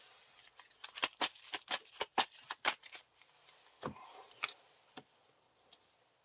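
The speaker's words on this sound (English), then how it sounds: "Shuffle all locations in the encounter discard pile back into the encounter deck." Playing cards are shuffled in quick, crisp bursts of snapping and riffling, with short pauses between. No voices.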